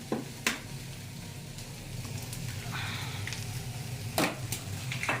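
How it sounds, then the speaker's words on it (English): Eggs frying in a pan for a chorizo and chicken con huevos breakfast, a steady near sizzle with a few sharp crackling pops, no talking. "Bring the eggs to the pan."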